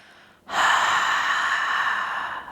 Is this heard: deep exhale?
yes